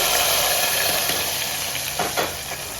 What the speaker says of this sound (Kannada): ಈ ಒಗ್ಗರಣೆನ ಈಗ ಪಾಯಸಕ್ಕೆ ಸೇರಿಸ್ಬಿಡೋಣ